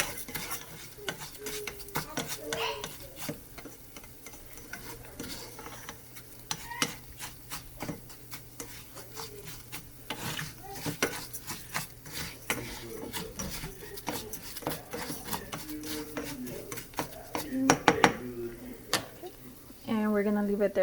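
A utensil stirs and scrapes through rice frying in a pot, with repeated clinks and rubbing strokes over a soft sizzle, close up, while a person talks intermittently.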